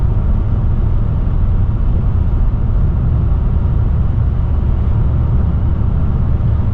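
Steady road traffic on a highway leading into Kyiv, a continuous broadband rumble of passing vehicles with no clear individual pass-bys and no one talking.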